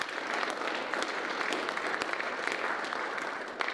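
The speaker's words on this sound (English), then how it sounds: "Give them a round of applause," Applause from an audience at a high school football awards ceremony, honoring the seniors' parents, a steady dense clapping that fills the whole stretch at moderate volume with no talk.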